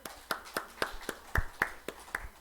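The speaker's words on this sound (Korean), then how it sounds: "우리 박수로 환영하겠습니다" A small church congregation claps in welcome for a returning deacon, about ten distinct, evenly spaced hand claps, close and clear, with no talking.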